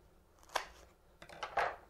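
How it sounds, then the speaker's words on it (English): A few quiet snips of scissors cutting bank line, two or three short crisp strokes close by in an otherwise hushed room. "Take our scissors."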